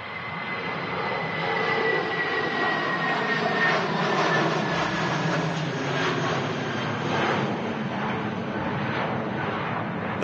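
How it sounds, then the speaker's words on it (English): A British Airways shuttle airliner at Manchester Airport produces a loud, continuous jet roar that swells and holds steady at moderate distance, with a rising whine over the rumble and no talk. "There goes the British Airways shuttle service, taking the aircraft back down to London Heathrow today."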